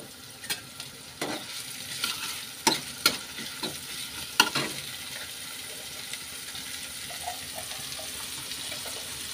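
Chopped onion goes into a pan of hot oil, producing a soft, steady sizzle broken by a few sharp clatters and stirring scrapes early on, then settling into quiet frying.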